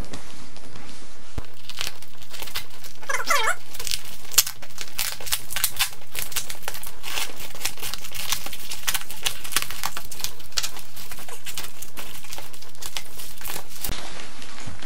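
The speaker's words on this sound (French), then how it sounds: "on va procéder maintenant au déballage du paquet et voir ce qui se cache dedans" A parcel holding a tablet wrapped in bubble wrap is opened, with continuous close crinkling, crumpling and tearing of packaging that runs for the whole stretch with no pauses.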